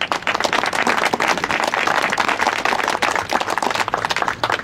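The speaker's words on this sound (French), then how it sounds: "Je pense que vous pouvez vous applaudir très fort." A crowd at an outdoor peace rally in Lyon claps loudly and continuously, a dense, close burst of applause filling the whole stretch.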